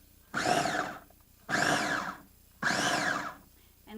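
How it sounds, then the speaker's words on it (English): A Cuisinart baby food maker whirs in three short pulse bursts of about a second each, with brief pauses between them. The motor's buzz is loud and close. "down here we're just gonna do a couple like pulse chops"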